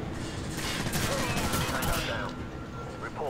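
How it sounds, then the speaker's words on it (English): Hip-fired weapon bursts in Call of Duty 4: Modern Warfare, a dense run of loud, rapid gunshots rattling for about two seconds before tapering into quieter game ambience. "The hip fire is really useful with this weapon in particular."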